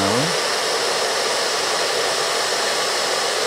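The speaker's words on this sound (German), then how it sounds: "Machen wir den weißen Föhn wieder aus." A white 1900-watt hair dryer runs steadily and loudly at close range, a continuous broadband blowing whoosh powered from a Jackery Explorer 1000 Plus power station, with a brief rising motor whine at the start and no talking.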